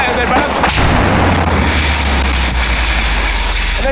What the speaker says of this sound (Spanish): en este momento está cayendo uno de los cohetes cerca del Palacio